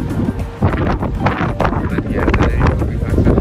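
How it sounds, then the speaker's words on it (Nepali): Sea wind at an Abu Dhabi beach rushes hard against the microphone, a loud, steady blustery roar with gusty surges throughout and muffled voices beneath. "हल्का हावा लगाइरह समुद्रतिरको हावा यता आइरह"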